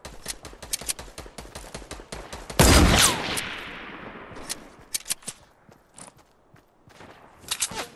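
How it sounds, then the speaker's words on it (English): Gunfire in a Fortnite match: a steady run of quick snapping shots and footsteps, then one loud, booming sniper shot with a long tail, followed by sparser shots and steps, with no talking. "they're sniping at you"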